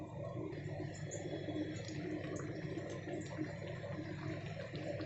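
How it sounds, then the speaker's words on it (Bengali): Water pours steadily into a simmering potato and paneer gravy with tomato, a continuous close splashing wash that holds for several seconds with no talk. "আমি এখানে আরও একটু জল দেবো, কারণ 2 মিনিট ফুটিয়ে নেব।"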